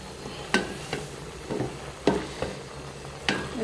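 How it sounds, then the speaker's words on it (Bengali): Onions tossed into a pan of cooking vegetables and stirred, giving a few sharp scraping clacks and soft sizzle bursts spaced irregularly, close and fairly quiet with no talking. "এখন সবজির মধ্যে আমি কয়েকটা পেঁয়াজ করে দিয়ে দিচ্ছি।"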